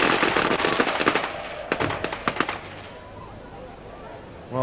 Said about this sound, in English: greeted there by a set of fireworks right behind us